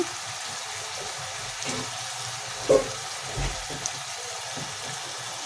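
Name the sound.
eggplant (brinjal) frying on high flame for vangi bath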